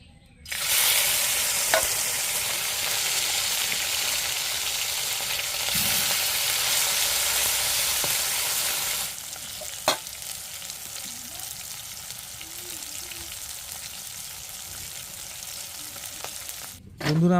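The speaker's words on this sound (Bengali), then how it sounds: "কড়াইয়ের তেল গরম হয়ে গেছে। এবার আমরা মাছগুলো ভেজে নিই।" Small fish fry in hot oil in a wok in a village kitchen, a loud continuous sizzle that eases somewhat partway through, with occasional clicks and light stirring and no talk.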